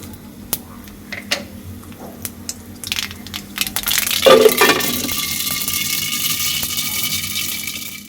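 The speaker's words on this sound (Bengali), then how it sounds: "যে সরিষা তেলে দেওয়ার সাথে সাথে কেমন একটা শব্দ হয় খুবই ভালো লাগে এটা" Bean seeds sputter and crackle in hot mustard oil with mustard seeds, a sudden loud burst of sizzling around the middle that settles into a steady hiss for the rest of the clip.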